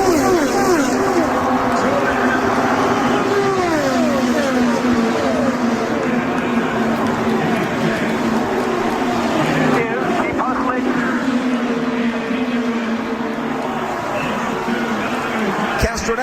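IndyCar race cars scream past on the final lap of the 2017 Indy 500, with a loud, continuous engine roar and repeated passing pitch sweeps under excited race commentary.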